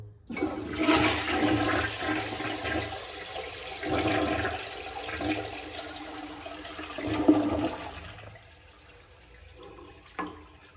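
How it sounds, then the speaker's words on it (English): A Briggs toilet in a Jellystone Park campground restroom flushes with a loud rushing surge of water that swirls for several seconds, then drains and fades into trickling, with a small clunk near the end. "I like the flush on these, but these don't really perform well, so I give them a mediocre."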